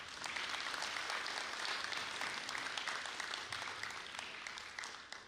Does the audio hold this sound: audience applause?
yes